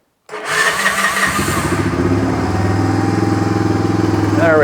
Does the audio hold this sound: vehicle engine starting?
yes